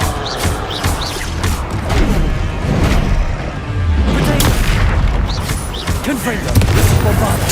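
Explosive spell blasts from Hogwarts Legacy, Confringo and Bombarda, a chaotic run of loud booms and crashing thuds close by, mixed with combat voices and effects.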